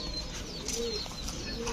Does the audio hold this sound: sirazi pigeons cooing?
yes